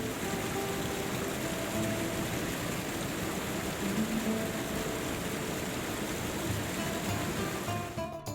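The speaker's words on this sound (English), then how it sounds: "Just outside the old town walls is a beautiful waterfall called Ras El Ma." Steady rushing water from the Ras El Ma waterfall just outside the old town walls in Morocco, a constant broadband wash that holds level throughout with no voices.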